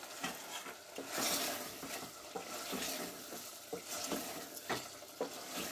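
Desi chicken meat sautéed with meat masala in a pan, a steady close sizzle broken by regular scraping stirs of the spoon, with no talking.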